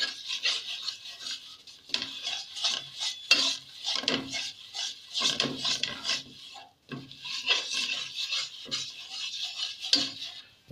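Flour roasting in butter in a pan, heard as steady close scraping and rasping from a utensil stirring against the pan, in repeated strokes with short pauses, with no talking.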